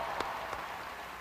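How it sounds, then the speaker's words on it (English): Crowd at a Bernie Sanders rally in Columbus, Ohio applauding for Morgan: a steady, fairly distant wash of clapping with a couple of slightly sharper claps standing out. "Give her a round of applause"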